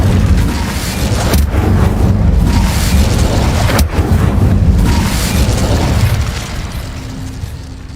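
A loud Incendio fire spell erupts in Hogwarts Legacy, a heavy, booming whoosh of flame that roars for several seconds with a couple of sharp cracks, then eases off into a fainter low hum.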